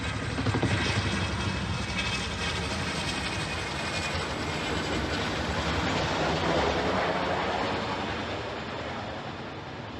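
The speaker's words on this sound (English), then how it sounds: "The camera shows a twin-rotor Chinook helicopter circling low over the water" A twin-rotor Chinook military helicopter circles low over water near Tacoma, Washington, a steady loud broadband rotor roar holding for the full span with slight swells and fading a little at the end.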